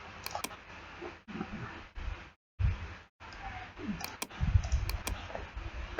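Sharp computer mouse clicks sound in small close bursts, with light taps and brief gaps of near silence between them, quiet and alone without talk.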